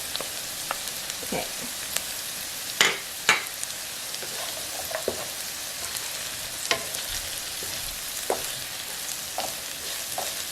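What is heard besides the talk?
garlic frying in a pan for kimchi fried rice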